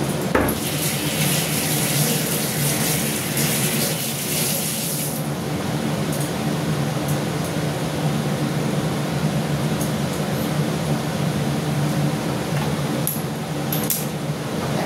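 Tap water runs steadily as hands are washed at a home kitchen sink during cooking, a continuous close hiss that shifts in tone partway through.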